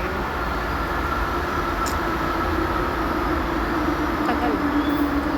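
Train arriving at a station, a loud steady rumble and rolling wheel noise with a sustained tonal whine, close by and continuous, with no talk over it.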